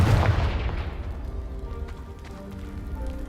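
A Confringo spell explodes in the Hogwarts Legacy video game, a deep booming blast at the start that fades into a rumbling, crackling tail of falling debris.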